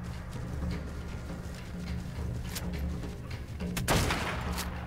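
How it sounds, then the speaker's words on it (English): A gun fired at a turtle in ARK: Survival Evolved gives several sharp shots spaced unevenly, the loudest near the end, over steady rumbling game ambience. "I'm gonna go ahead and shoot this turtle in the face for calling on my stuff."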